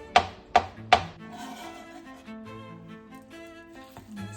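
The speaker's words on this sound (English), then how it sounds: "Chop up a little bit of fresh dill" Fresh dill being chopped with a knife on a cutting board: three sharp, distinct chops at the start, then quieter cutting and light taps continuing close by, with no one speaking.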